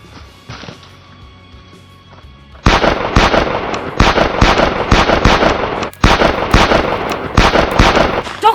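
Rapid bursts of gunfire from a companion's gun in a Doctor Who fan film, loud, close repeated volleys of shots after a quieter opening with faint background sound.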